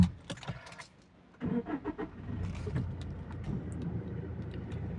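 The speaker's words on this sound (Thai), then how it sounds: "มาเดี๋ยวเราลองมา สตาร์ทรถกันดู" A used seven-seat family Toyota Fortuner being started, with a faint rattle of keys and handling noises, then the engine turning over and settling into a low, steady idle close by. No voices.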